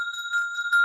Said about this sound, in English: It's a Tibetan bell.